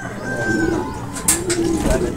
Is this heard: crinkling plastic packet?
no